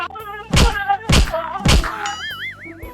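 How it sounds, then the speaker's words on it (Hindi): Three loud, evenly spaced whip lashes strike a man as punishment in a comedy skit, each a sharp whack, followed by a springy, wobbling cartoon sound effect over a low musical backing. "इसको 5 कोड़े मारो"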